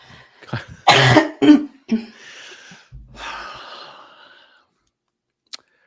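A few harsh coughs close to the mic, with a throat clear and breathy exhale afterward, then quiet apart from a small click near the end.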